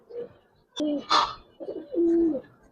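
Giribaz pigeons, an old breed, coo close by in a few distinct droning calls with brief pauses between them, loud and clear against a quiet background.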